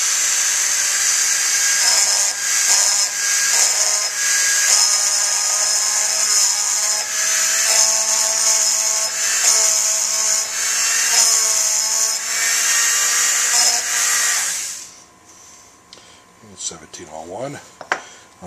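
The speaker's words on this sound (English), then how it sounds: "This is not a super great engraver, but it gets the number on there a little deeper than a scratch." A small rotary engraver fitted with a tiny round burr cuts numbers into a tenor saxophone mouthpiece, a high, steady whining buzz broken by short pauses, stopping near the end as faint handling noises follow.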